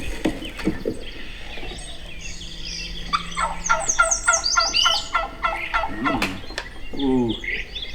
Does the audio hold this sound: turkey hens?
yes